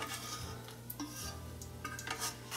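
Bacon frying in a pan as pieces are lifted out, a low sizzle under quiet scraping and light clinks of a utensil against the pan, faint and close with no voices.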